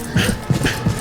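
A dog whimpers in a video game, a short run of soft, whiny yelps in quick succession, close and clear with no talking.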